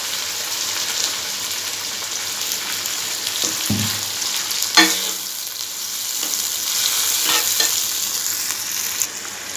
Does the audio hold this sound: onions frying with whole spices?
yes